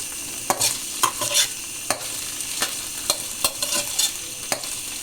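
Ingredients for paneer biryani fry in hot oil with a steady close sizzle, broken by regular sharp scrapes and clinks of a spoon stirring the pan. No voices are heard.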